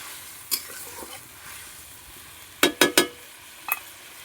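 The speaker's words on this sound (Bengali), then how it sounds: "অল্প আমি জলটা দিয়ে দিলাম" Water splashed into hot frying masala in a pan hisses in a few sharp bursts: one short sizzle, then a quick cluster of three louder crackling spurts and a final brief hiss, with a quiet background between them.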